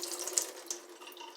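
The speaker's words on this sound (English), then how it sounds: "Take your hand, cup, and pour it out." Liquid from a can of pink salmon is poured out into a cupped hand, a short, soft trickling splash lasting about a second, close and alone.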